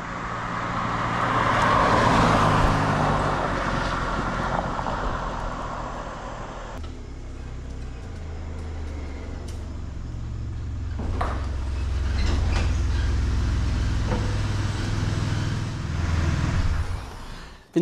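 A DeLorean on a test drive after a seized brake caliper repair and new KW suspension, with continuous low road rumble and engine hum from inside the car that swells and eases, no speech.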